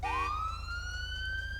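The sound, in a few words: police car siren reactivated in GTA 5 video game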